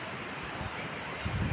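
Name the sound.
waterfall roaring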